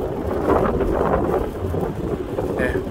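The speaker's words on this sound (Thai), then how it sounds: "ค่อนข้างมีลมพัดนิดนึงทุกคนเนาะ เนื่องจากหนึ่งมี พายุเข้าแน่ท้องฟ้ากับสีมืดครึ้มนิดนึง" Rumbling thunder mixes with gusting wind and rain noise as a storm approaches over open country in Laos, a dense, steady roar throughout.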